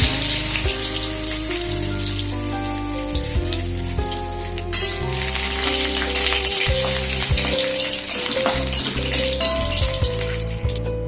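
Whole garam masala and cashews sizzle in hot oil with a steady, rain-like crackle. The frying continues throughout, partly buried under loud background music.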